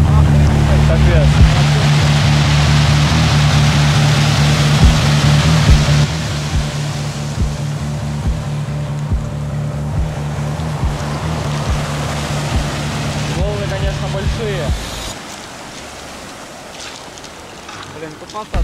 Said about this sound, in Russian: Посмотри, какая волна.